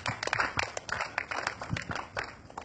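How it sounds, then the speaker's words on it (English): A church congregation clapping for Pastor Joel, a dense, uneven patter of many hands slapping together, loud and close, with voices mixed in. "Clap for Pastor Joel."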